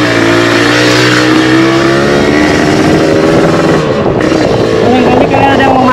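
A motorcycle engine drones loudly and close by, a steady throbbing roar with a slightly shifting pitch that fills the whole stretch.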